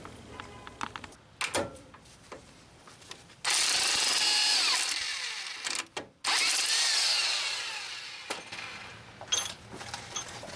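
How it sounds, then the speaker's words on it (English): A power tool spinning off the 22 mm nut of an outer tie rod end on a 2003 GMC Sierra or Chevrolet Silverado 2500HD, a loud close whirring burst of a few seconds, a brief pause, then a second run amid clanks. "take the nut off the outer tie rod end"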